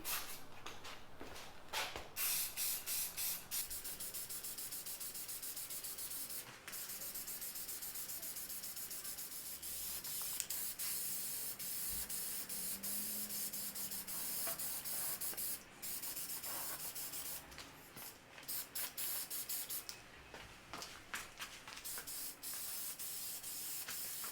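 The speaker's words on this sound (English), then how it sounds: "here we are painting the outsides" A spray can hisses in long, repeated bursts as the outside of a 1960s Canadian Coleman 414 Vagabond camp stove is painted, with brief pauses between passes. Close and fairly steady, with no voices.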